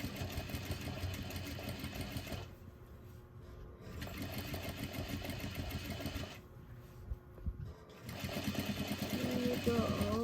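A sewing machine stitching placemat fabric, loud and close, with a steady motorized whir running in long stretches broken by brief pauses, and a voice speaking over it.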